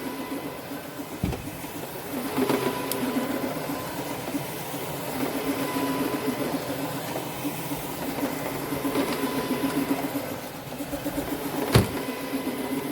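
A CRB carpet encapsulation cleaning machine with counter-rotating brushes runs steadily as it is maneuvered across carpet, giving a constant mechanical whir and hum with occasional brief clicks, heard alone without talk.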